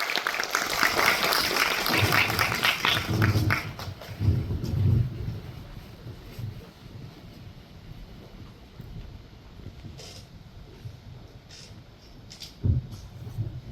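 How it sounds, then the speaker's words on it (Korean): Audience applause at Busan International Film Festival: a loud burst of outdoor clapping that fades after a few seconds into wind-buffeted ambience, with scattered faint claps and voices afterward. "저희 관객분들하고 햇살 관객분들하고 다시 한번 박수 좀 보내주세요"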